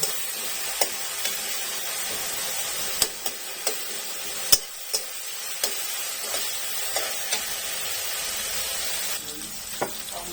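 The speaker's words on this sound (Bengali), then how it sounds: "তো পেঁয়াজগুলো আমি ব্রাউন কালারের করে ভেজে নেব।" Onions frying in a pan until brown, a steady bright sizzle throughout with sharp clicks of a spoon scraping and stirring at irregular intervals, close and fairly loud.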